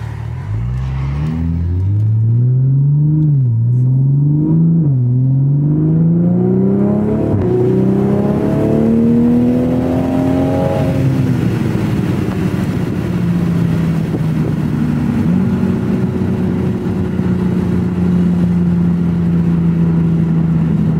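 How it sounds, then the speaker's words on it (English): A Toyota Supra's loud exhaust roars close by as it accelerates through several gears, the pitch climbing and dropping with each shift, then settling into a steady drone. "So hopefully this helps with hearing the exhaust."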